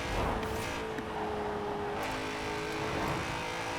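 A 444-horsepower BMW M3 GTR on sports tires cruising in Forza Horizon 4, its engine humming at a steady, sustained pitch throughout, close and moderately loud with no talk.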